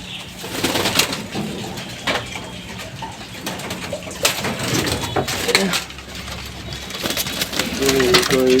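Olympic line racing pigeons at a loft in Tangail coo in low, repeated murmurs, mixed with rustling, handling noises and scattered bird calls throughout.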